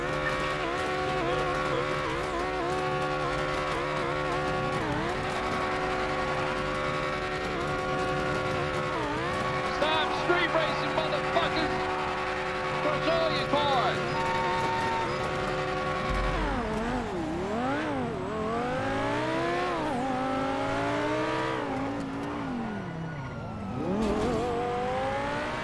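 A race car starting off and driving, its engine note climbing and falling through sweeping revs with tire squeal, steady and loud for the whole stretch, with voices briefly over it.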